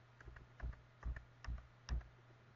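Someone types a password on a computer keyboard: four or five soft, separate keystroke clusters at an uneven pace, close and quiet.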